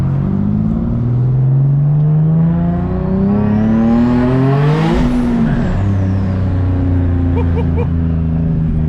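A powerful 600+ horsepower single-turbo Nissan 370Z engine revs up and roars by close, pitch climbing then dropping as it passes, with turbo whine and a deep rumble afterward.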